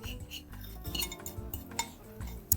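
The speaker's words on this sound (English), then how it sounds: "So now what we're gonna do is we're gonna add our rinsed rice" Rinsed rice goes into a cooking pot with clinking and scraping of metal and utensils, a few sharp knocks, and a louder clank right at the end.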